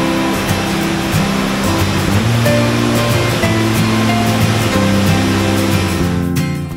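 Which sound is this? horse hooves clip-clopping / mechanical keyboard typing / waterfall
waterfall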